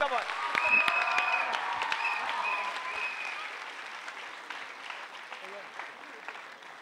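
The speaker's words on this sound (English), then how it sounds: "Please clap for him." An audience at a school annual day celebration claps steadily, the sound slowly fading, with a few voices faintly underneath.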